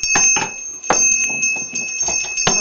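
A dog rings a hanging bell to be let outside, the bell struck repeatedly with bright ringing hits in quick succession, close and loud.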